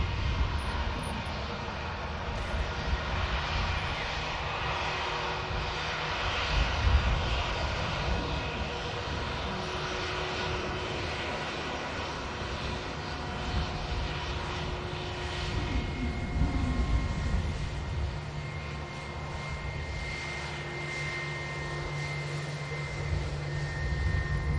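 An Airbus A320neo airliner departs Manchester Airport, its jet engines making a continuous distant roar that swells and fades gently throughout, with no talk over it.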